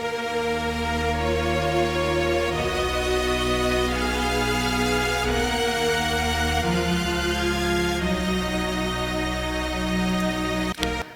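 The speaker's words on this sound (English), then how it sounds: "So if we just solo the orchestra, it's like bass, cello, violins, violas, and everything together." Layered orchestral strings, bass, cello, violas and violins, play together soloed from the rest of a track, a loud, sustained full-bodied ensemble with shifting chords over a steady bass note and a brief break near the end.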